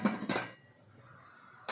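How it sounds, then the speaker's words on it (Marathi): A metal pressure cooker lid is set onto the cooker in a home kitchen while dal is being cooked, giving two quick clanks close by, a quiet pause, then another clatter. "हे कुकरचं ढक्कन लावायचं"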